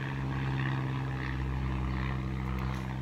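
An airplane flies overhead, giving a steady, low droning engine hum that holds evenly throughout without any other sounds.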